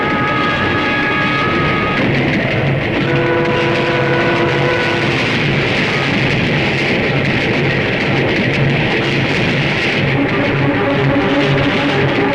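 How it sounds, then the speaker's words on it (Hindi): A train runs past without stopping in a Hindi action film scene, a loud continuous rumble and roar with horn-like tones sustained throughout. "अरे ये क्या, ये ट्रेन रुकी क्यों नहीं?"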